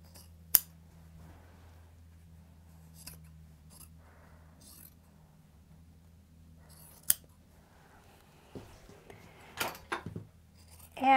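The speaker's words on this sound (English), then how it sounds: "now I'm just gonna cut across those shoulder seams" Scissors snip across the shoulder seams of a T-shirt being cut up for a T-shirt quilt, giving a few sharp, separate close cuts spaced over a quiet background and then a quicker cluster of snips near the end.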